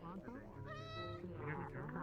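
A cat meows in VRChat, a short nasal cry rising and falling amid people talking nearby, soft and partly masked by the voices.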